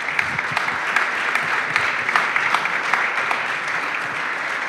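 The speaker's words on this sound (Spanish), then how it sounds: "les pido un fuerte aplauso para los becarios de la Beca de Taiwán de" An audience at a Taiwan scholarship award ceremony in Argentina claps for the recipients in a dense, continuous round of applause with sharp individual claps scattered through it.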